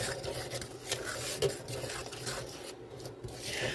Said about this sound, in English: So I'm going to add my milk slowly. See if I need more. Start stirring this all together.